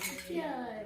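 At a bride-to-be party, glasses clink together in a cheers toast, making a short, bright ringing chime up close, with voices mixed in.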